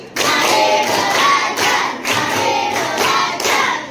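A classroom of children claps a counted five-beat pattern twice through, loud massed hand claps falling in rhythmic clusters with brief gaps, close and with no talking over them.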